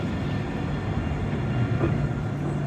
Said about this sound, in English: And this tram is so cool.